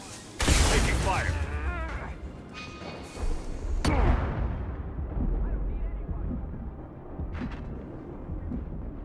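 Heavy gunfire and explosive blasts in the Mass Effect 2 video game, a loud burst at the start followed by booming, rumbling impacts and further shots fading over several seconds, with a voice speaking over it.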